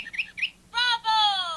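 Hey Duggee pop-up toy bird chirping: a couple of quick electronic tweets followed by two longer, bright warbling chirps, close and clear with no talk over them.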